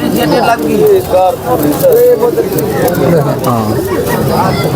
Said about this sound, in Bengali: খুবই সুন্দর কবুতর ভাইয়া